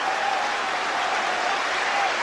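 A football stadium crowd at a 1997-98 Chelsea versus Southampton match applauds a goal, a dense, steady wash of clapping and cheering that stays loud throughout.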